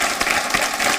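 Audience applause at a Hindi poetry contest during the Maha Kumbh in Prayagraj, a dense, loud wash of clapping that runs steadily through the whole short moment with no voices over it.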